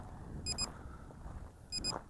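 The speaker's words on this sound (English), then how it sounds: "it is annoying beeping, but it lets you know you're recording video." A drone controller's recording alert: two pairs of short, high electronic beeps, about a second apart, repeating over a low motor hum.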